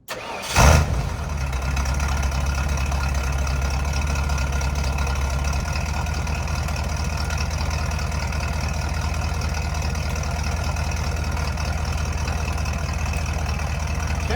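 A Ford Bullnose Bronco engine with a freshly tuned carburetor catches with a sharp start, then settles into a steady, loud, close idle with a deep, even throb.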